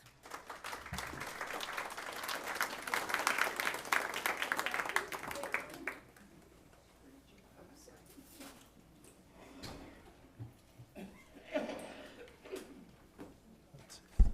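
Audience applause welcoming Bob McGrath at a wellness talk, a dense steady clapping that fills the room for about six seconds, then stops, leaving quiet room noise with faint shuffles.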